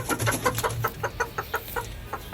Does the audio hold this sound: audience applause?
no